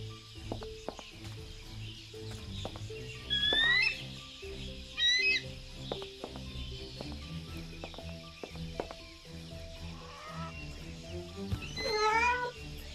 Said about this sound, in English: Yeah, there is a cat.